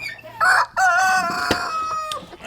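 A rooster crows nearby on a farm, a loud, drawn-out cock-a-doodle-doo with a few clucks around it.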